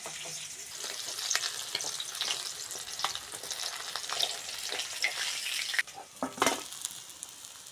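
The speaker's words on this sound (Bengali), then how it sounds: "মাছের মাথা দুটো ভেজে নেব ওই তেলের মধ্যে" Tangra fish fry in hot oil with a loud, close, continuous sizzle full of sharp pops, broken by a few spatula scrapes and clatters as the pieces are turned.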